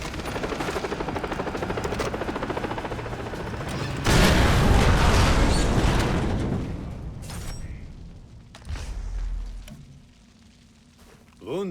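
Enemy helicopter in the shooter game Far Cry 3, a loud rotor thumping and engine roar mixed with gunfire and a heavy blast midway, then fading mechanical noise.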